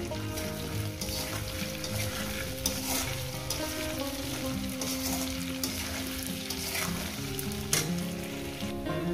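Taro pieces frying in a pan give a steady, close sizzle that runs the whole time, with occasional stirring scrapes and small clatters and no voices.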